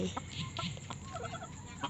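Chickens cluck softly around a farmyard at night where duck, chicken and quail eggs are collected, a few short calls scattered over a low, steady background.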